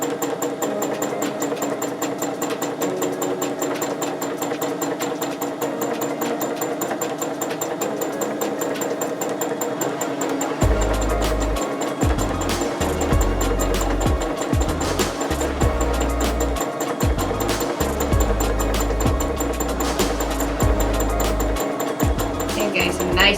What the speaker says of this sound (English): I'm listening to the machine and trying to move it at a nice steady pace